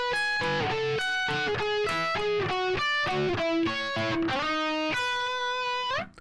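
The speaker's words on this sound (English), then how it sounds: "this last turnaround is kind of cool because we're just descending using sixth intervals" Blues rock turnaround on electric guitar with a slightly driven tone, descending in sixth intervals: a steady run of paired notes stepping down, ending on a sustained final chord that cuts off, with no talking.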